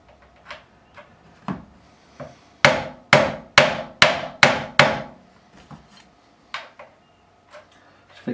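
A nylon fretting hammer taps the frets of a Squier bass guitar: light scattered taps, then a run of six firm, evenly spaced strikes, then quieter taps again, all close up.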